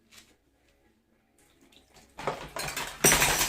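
Dirty dishes are washed in a home kitchen in London, with quiet clinks of plates and cutlery at first, then louder running tap water and clattering dishes building near the end.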